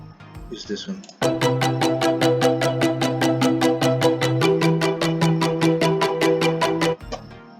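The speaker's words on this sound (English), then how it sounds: "this plucker sound is what inspired the whole track" Original plucker synth sample: a rapid, even train of bright plucked notes playing a chord progression that shifts partway through, preceded by a short burst of other tones and cut off cleanly near the end.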